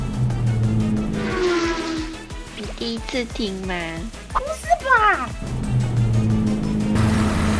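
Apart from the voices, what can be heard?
dog snoring, sounding like a revving motorcycle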